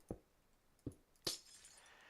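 Glass blocks being placed in Minecraft while building an iron farm: three separate short clinking taps with pauses between them, the last one brighter and glassier, quiet overall.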